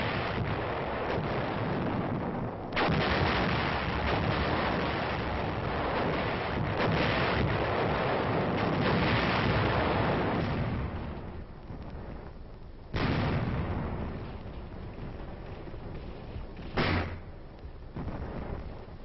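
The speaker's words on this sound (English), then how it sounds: "3rd Division artillery moved in to plug the gaps with firepower" Korean War battle artillery fire from the 3rd Division: a continuous rumbling roar with several sharp, heavy bursts breaking through, dense and somewhat muffled, with no voices.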